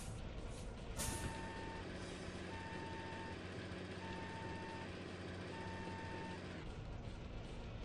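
A truck at a weigh station idles and rumbles as an air brake hisses, then steady reversing beeps pulse at an even pace before cutting off near the end.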